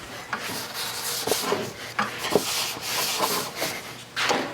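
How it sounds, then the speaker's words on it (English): Paste wax is rubbed by hand inside a wooden jig used for making Shaker style cabinet doors, a soft, close scrubbing with repeated short strokes and light knocks in an uneven rhythm. "I am gonna throw some paste wax just on the inside of this so that it will slide nice and smooth."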